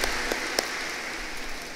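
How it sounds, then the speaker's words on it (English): Brief, steady clapping from a school annual day audience, dense and fairly loud with a couple of sharper claps standing out. "Can we give a big round of applause for that?"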